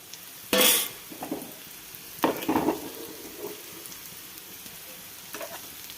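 Onions frying in a pan for a homemade pizza topping sizzle softly while a spatula scrapes and stirs in quick bursts, close and fairly loud.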